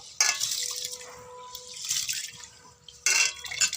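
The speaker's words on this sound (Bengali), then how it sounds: "চালটা ধুয়ে নিচ্ছি তো দেখো চালটা ভালো করে চটকে চটকে আমি এইভাবে ধোবো" Rice is washed by hand in a pot of water, with bursts of sloshing and splashing as the grains are squeezed and rubbed, pausing between strokes, close up with faint background hum.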